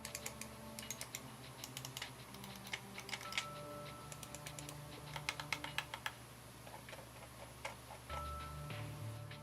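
Buttons on a Rapoo V300 gaming mouse are clicked repeatedly in quick, irregular bursts, producing crisp, close, quiet clicks over a low steady room hum.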